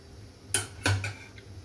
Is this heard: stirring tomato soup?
yes